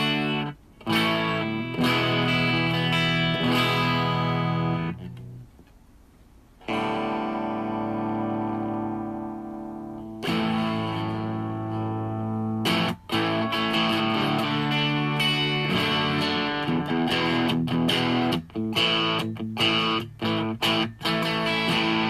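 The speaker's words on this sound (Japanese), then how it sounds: "多分このペダルで一番歪みとして使いやすいのがこれぐらいの音だ" An electric guitar plays through a low gain fuzz distortion pedal, with loud, sustained, gritty chords and riffs, a few pauses and sharp re-attacks, and no talking.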